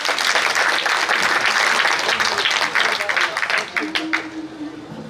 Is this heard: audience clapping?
yes